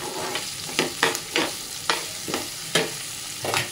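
Sliced onions softening in a pan with a pinch of salt, stirred in quick repeated scraping strokes, about eight of them, over a soft continuous sizzle, close and without speech.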